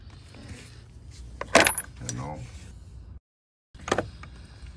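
Metal bolts pulled from a Mercedes ML63 clink and jingle as they are handled, with a sharp bright rattle near the middle, a brief silence, then another metallic clink close by.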